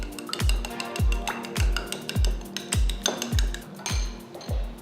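A whisk beats a mixture with salt and pepper in a bowl, making a quick run of rhythmic clinks and knocks against the sides, close and fairly loud, with no voices.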